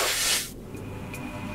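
A Star Trek hypospray gives a short, sharp pneumatic hiss that quickly fades, leaving faint quiet tones behind it.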